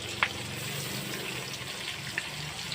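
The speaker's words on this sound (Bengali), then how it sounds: "তেলের ভিতরে আমি টমাটম কুচি দিয়ে দিচ্ছি" Chopped tomatoes go into hot oil with cumin and sizzle quietly and continuously, with a couple of faint clinks from utensils.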